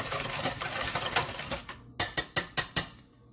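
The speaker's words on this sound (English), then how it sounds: "So I'm going to whisk the egg yolks" Egg yolks and sugar are whisked together in a bowl: a brisk, scratchy rattle followed by five sharp, evenly spaced taps, heard up close.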